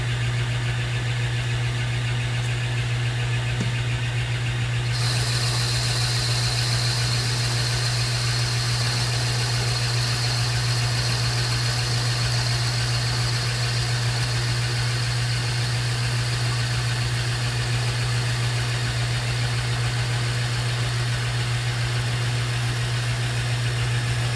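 A metal lathe takes a turning pass on a bolt shank, with a steady motor hum and a constant whine throughout, and a brighter cutting hiss that begins partway through and carries on to the end.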